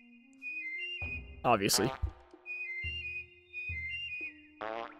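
Whistling from the video game Oddworld: Abe's Oddysee: sustained, steady whistled tones recur across the passage, broken by a few springy, bouncy game effects, while a player briefly speaks one word.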